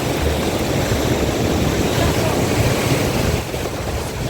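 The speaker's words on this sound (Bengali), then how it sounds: "এই দেখেন পানি আসতেছে, দাঁড়াই থাকতে একটি পানি আসে, আবার পানি যায়" Sea waves washing in at Patuartek beach, a loud continuous roar of surf mixed with wind buffeting the microphone, easing slightly near the end.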